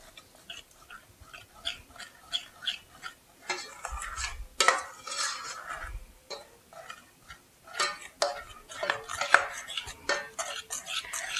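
A spoon scraping and tapping against a pot or bowl while a chocolate, vanilla and peanut butter mixture is stirred, in irregular knocks and scrapes at close range.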